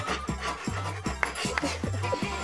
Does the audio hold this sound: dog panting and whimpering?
yes